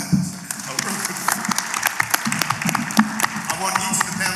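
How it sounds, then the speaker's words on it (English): Applause rolls through an audience at a panel discussion on chronic kidney disease, a steady moderately loud patter of many hands lasting several seconds with crowd noise underneath. "give a clap for that"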